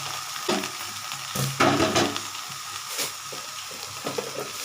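Taro greens frying and sizzling in a pan in a home kitchen, a steady hiss broken by a few louder bursts as the vegetarian dish is stirred and scraped, close and alone with no talk.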